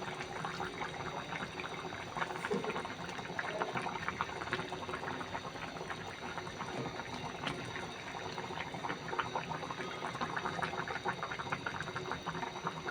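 Tomatoes boiling in a cooking pot, a dense, steady bubbling and simmering hiss that runs continuously at a moderate level with no talk over it.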